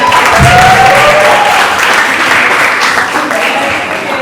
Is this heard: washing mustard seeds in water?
no